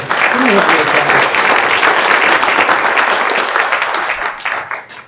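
Audience applause at an opera house talk on small-scale aquaculture and marine economies, loud sustained clapping from a crowd that tapers off toward the end, with a voice speaking over it.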